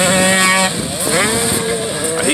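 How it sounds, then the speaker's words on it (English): A KTM 85 motocross bike ridden at a motocross practice track roars loudly and close, its engine note droning steadily and then rising and wavering as the rider works the throttle. "That's a KTM 85 he's on."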